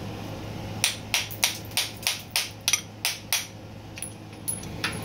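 A hammer strikes a metal punch about a dozen times in a steady rhythm, driving out a bearing, each blow a sharp metallic clank, close and fairly loud.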